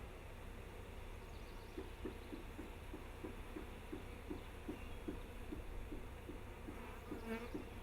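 Honey bees from a package buzzing inside a new hive as the inner cover is lowered into place, a dense steady hum filling the whole stretch, close and continuous, with a pulsing drone underneath.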